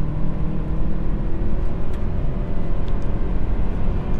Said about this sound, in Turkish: Dip gaz yaptım. Hatta bir de sport moduna aldım.